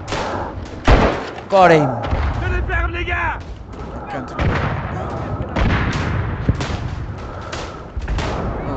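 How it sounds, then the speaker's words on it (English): Artillery strikes land in the WWI shooter Verdun, with a loud thud near the one-second mark and another heavy impact just before two seconds, followed by rumbling battlefield noise and a shouted voice. "That's another artillery strike."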